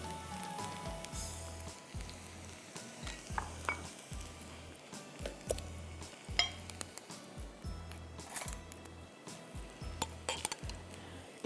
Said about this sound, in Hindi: अब मैं अदरक लहसुन डाल रही हूँ।